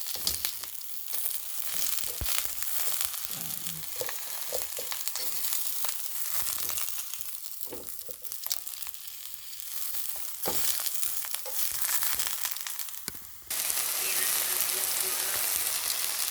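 A large eggplant frying in hot oil gives a steady, close crackling sizzle throughout, with occasional louder pops and stirring clatter, and the frying grows brighter and hissier near the end.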